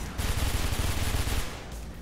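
Uzi fire in the video game Mirror's Edge comes as a dense, rapid burst of loud gunshots lasting about a second and a half, then tails off into a brief echoing decay.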